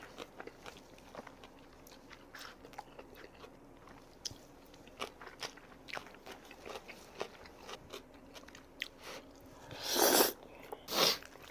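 Jjajangmyeon noodles with meat eaten up close, with soft wet chewing and biting all through and two louder slurping bursts near the end.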